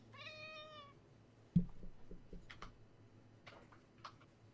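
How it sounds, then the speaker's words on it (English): A house cat gives one clear, drawn-out meow up front, followed by soft clicks, taps and faint ticking in a quiet room, with no voices. "Cat."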